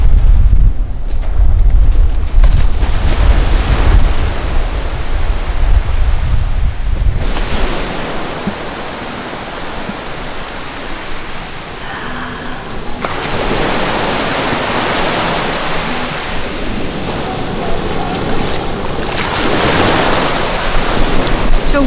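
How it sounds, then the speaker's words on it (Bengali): Sea waves roll and crash at Coney Island beach in New York City under steady gusting wind, a loud continuous surf roar with heavy wind buffeting on the microphone, swelling and easing over time. "সমুদ্রের এই যে আওয়াজটা এটা কিন্তু আমার ভালো লাগে"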